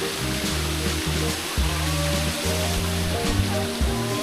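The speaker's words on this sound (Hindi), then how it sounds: "ऊपर से ऐसे सुंदर सा झरना भी बहता है।" A waterfall spills down near a rocky pool at a hillside temple site in Panchmarhi, giving a loud, steady, close rush of water that never lets up.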